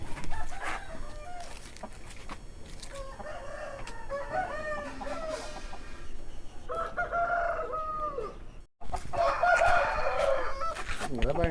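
A fighting rooster crows loudly nearby, repeated a few times, amid clucking fowl and people talking in the background.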